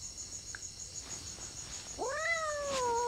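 At night in a house in the forest, a cat gives one drawn-out meow near the end, heard clearly over a steady chirping of crickets and insects.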